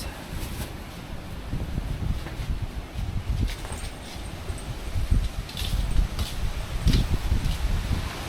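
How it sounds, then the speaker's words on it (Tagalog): Strong gusts from Typhoon Kristine sweep through a rural yard beside a house at night, rushing and rustling foliage near a mango tree in a steady, swelling roar that builds toward the end. "pulso ng hangin ng lakas-lakas."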